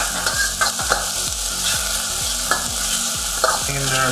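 Onions, carrots and capsicum stir-fry in a hot pan for a chicken stir fry, a steady loud sizzle punctuated by rhythmic scraping tosses of a spatula, with no talking.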